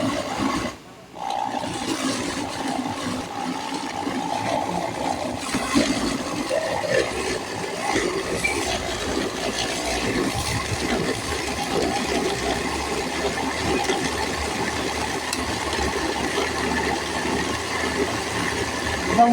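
A blender whirring through fresh vegetables, sweet potato tops, jute leaves, moringa and chili leaves with banana, a loud continuous churning roar after a brief pause near the start.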